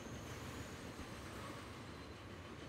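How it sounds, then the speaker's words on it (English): A train rolls past in the Transport Fever video game, a continuous rumbling wash of wheels on rails with a faint high whine, steady and fairly close throughout, with no talking. "that is a very noisy train by the side of us"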